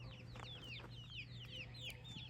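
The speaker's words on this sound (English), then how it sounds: "I'm with some chickens." Young farm chickens cluck and cheep in quick, overlapping chirps close by, soft and steady with no talking.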